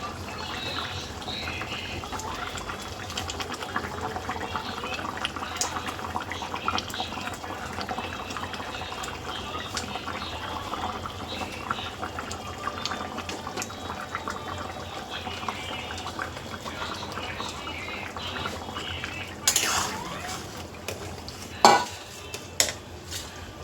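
A hilsa fish curry with taro, potato and eggplant simmers in a pan amid clinks of a spoon and pot, soft stirring and bubbling, with a few sharper metallic knocks near the end.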